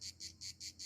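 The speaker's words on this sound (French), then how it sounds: "une cigale dans un arbre" A cicada sings in a tree on a hillside hike near the Sémaphore du Dramont, giving five quick, evenly spaced buzzing pulses. The insect sounds fairly faint and distant.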